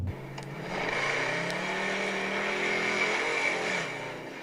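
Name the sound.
car accelerating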